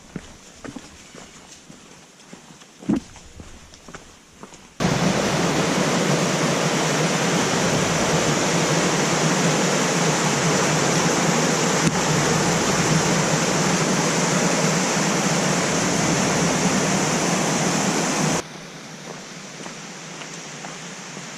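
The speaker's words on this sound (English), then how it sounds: "We're passing all kinds of little streams." A small stream flows beside a Big Creek Loop trail in the Great Smoky Mountains, a loud, steady rush for most of the stretch. Footsteps crunch on the path before and after it.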